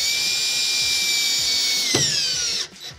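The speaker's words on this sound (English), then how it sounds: "hold the shim with one hand as you tighten the screw with the other" Power drill driving a screw through a shim on an acrylic alcove shower base, a steady high motor whine that dips as the screw snugs down, then cuts off with a short trailing rattle, close and loud.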